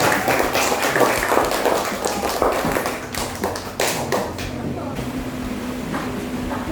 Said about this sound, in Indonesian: Beri tepuk tangan untuk Mas Dava